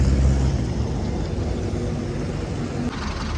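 A loaded Eicher truck idles nearby, its engine giving a loud, steady low rumble that holds unbroken throughout.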